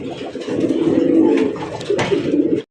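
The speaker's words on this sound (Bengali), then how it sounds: "আফসান গিরিজের রেসার কবুতর ভাই" Racer pigeons coo together in a steady, close, continuous murmur that lasts a few seconds before cutting off abruptly.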